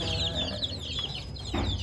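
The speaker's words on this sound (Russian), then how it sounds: "Специально для тебя показываю птичку." Chickens clucking in a backyard coop of young, growing birds, a continuous chatter of soft clucks and peeps at moderate distance, with no talk over it.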